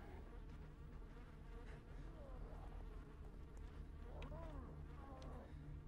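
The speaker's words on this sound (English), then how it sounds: "Got some bees." Bees buzzing in the horror video game The Evil Within, a constant droning insect hum with wavering tones, continuous and fairly close over a low background rumble.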